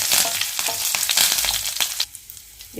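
Curry leaves and crushed shallots hiss loudly in hot oil as a tempering for drumstick dal rasam, a dense close sizzle with stirring clatter that drops away abruptly near the end.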